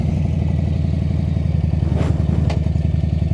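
Harley-Davidson Street Bob motorcycle pulling away, a steady loud low engine throb with a couple of brief clunks from the transmission as it shifts, heard up close from the rider's seat.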